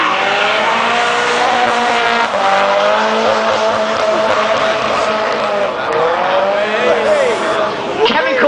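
A drift car at Lydden Hill race circuit screeches its tires through a long slide, loud sustained squealing with wavering pitch over engine noise, while a commentator talks over it throughout.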